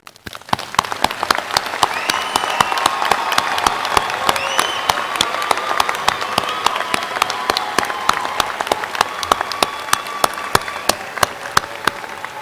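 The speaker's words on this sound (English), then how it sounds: "Please join me in applause." A crowd applauds at a commencement ceremony, with sharp individual claps rising quickly into sustained, fairly loud, rain-like clapping that continues throughout.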